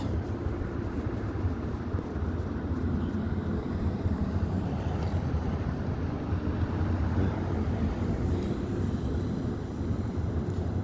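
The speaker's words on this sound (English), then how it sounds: "The wind makes everything so much worse." Strong wind outdoors roars as a constant low rumble and buffeting against the microphone, steady and loud throughout with no clear gusts or breaks and no voices.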